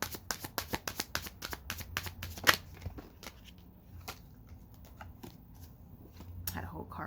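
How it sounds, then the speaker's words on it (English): Tarot cards are shuffled in rapid crisp riffling bursts, with scattered slaps and clatters as a bunch of cards falls, close and fairly quiet, while a voice talks softly in the background. "Had a whole bunch of cards that fell."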